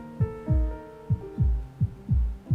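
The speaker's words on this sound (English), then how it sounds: "God, his heartbeat is really calm," A calm, steady heartbeat sound effect from the Love and Deepspace video game, with deep double thumps repeating at an even rhythm, loud and close over a soft musical hum.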